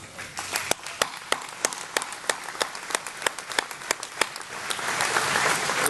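Applause at an agricultural industry celebration, with scattered sharp individual claps that thicken into fuller, steadier clapping toward the end, heard at moderate distance.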